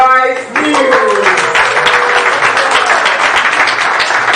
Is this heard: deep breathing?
no